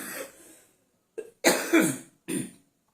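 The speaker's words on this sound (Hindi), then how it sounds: "खांसी हो गई है ज्यादा जोर से बोलने की वजह से" A person coughs close up in a few harsh bursts, with a quick double cough in the middle and a softer breathy sound before it.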